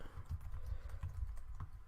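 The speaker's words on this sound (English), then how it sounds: "Bit of typing." Rapid, uneven keystrokes tap on a computer keyboard close by, a steady clatter of soft clicks running through the whole moment with no voices.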